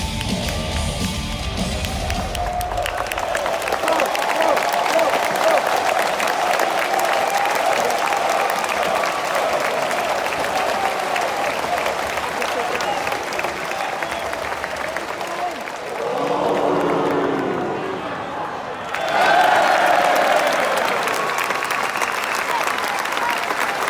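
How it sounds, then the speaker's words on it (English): A wrestling crowd at a Progress Wrestling show at Wembley cheers and chants loudly throughout, a dense roar of voices and clapping with a brief dip before surging again near the end. "the crowd are chanting "bro" constantly, like they usually do with Matt Riddle"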